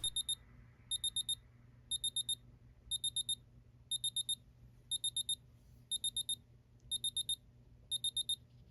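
A Tissot PRX Digital watch timer alarm beeping at zero: shrill quick bursts of four beeps repeating about once per second, steady and close.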